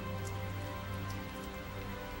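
Steady rain in the video game Tales of Zestiria, falling as a dense, even hiss with soft patter of drops throughout, continuous and moderately quiet with no voices.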